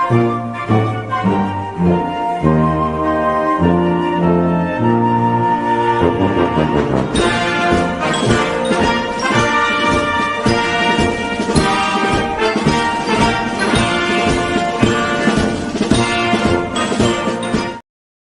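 A rock song plays loudly and continuously throughout, a full band with steady drums, guitars and vocals, the instrumentation thickening partway through.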